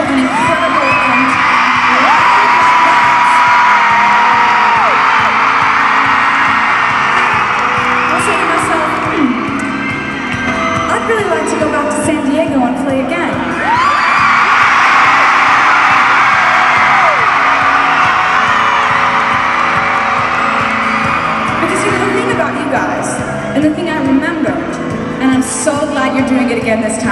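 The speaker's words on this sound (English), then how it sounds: "see if the crowd is absolutely insane and wonderful and incredible" A huge concert crowd in San Diego cheers, whoops and screams continuously and loudly, a dense roar that swells in waves throughout.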